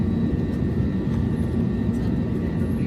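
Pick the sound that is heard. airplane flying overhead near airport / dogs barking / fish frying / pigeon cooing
airplane flying overhead near airport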